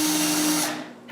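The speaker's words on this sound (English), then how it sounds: "The first thing to do is to drill pilot holes so I can screw the slides." A power drill bores pilot holes for drawer slides on a bathroom vanity, giving a steady, close whirring whine that cuts off after a moment.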